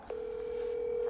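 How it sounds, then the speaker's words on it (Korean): A mobile phone dials out on a call, giving a single steady electronic tone that holds for about a second after a brief click, faint and alone. "제가 일단은 한번 전화를 저기 나와 있는 핸드폰 번호를 통해서 전화를 드려보겠습니다"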